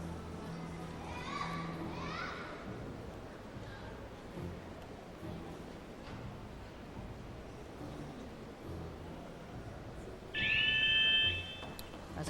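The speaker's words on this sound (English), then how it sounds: "Buzzer sounds." A buzzer sounds during a women's balance beam routine at a world gymnastics championship, one sustained electronic tone about a second long standing out over busy arena crowd murmur and children's voices.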